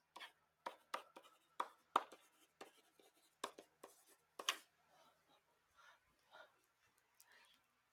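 Marker strokes on a board during an algebra lesson, a quiet run of short, sharp scratches and taps in uneven rhythm that thin out toward the end.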